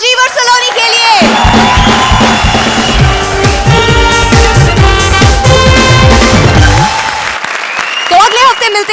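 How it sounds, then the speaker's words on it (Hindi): A studio audience at a TV comedy show bursts into loud, sustained applause with cheers and whoops, swelling after a short musical sting and fading near the end as music returns. "तो एक आखिरी बार जोरदार तालियां राजीव और सलोनी के लिए"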